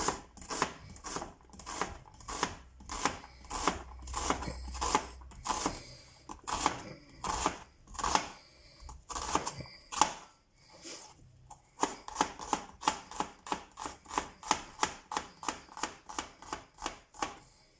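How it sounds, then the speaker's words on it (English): Knife chopping garlic and onion on a cutting board, a long run of crisp rhythmic strikes, fast and steady, with a short pause midway before a quicker burst of chops, close and distinct with no talk. "And finally chop it as well."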